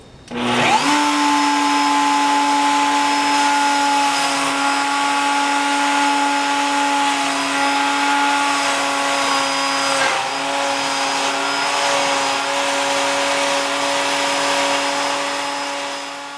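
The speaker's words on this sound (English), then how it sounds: "bring up your router bit till it touches your piece, and then just come up just a little bit with it" A wood router shaves light passes across a board to flatten it, a loud steady high whine holding for the whole stretch with a brief dip partway through.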